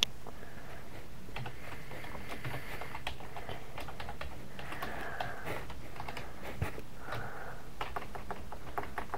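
Rapid keyboard typing clatters in uneven bursts, key taps close and crisp against a low background hum.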